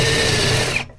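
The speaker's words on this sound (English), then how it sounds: "Well, it's drilling." A Parkside Performance 20V brushless cordless drill bores into plastic, giving a loud, steady high-pitched whine that runs for most of a second and then cuts off abruptly.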